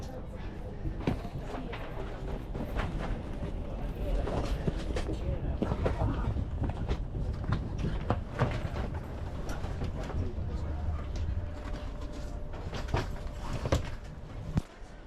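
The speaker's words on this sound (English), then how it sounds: "The train has started moving." Inside a high-speed train near Naples pulling away, a steady low rumble carries faint rhythmic clicks and rattles of the carriage, with quiet noises of the cabin around it.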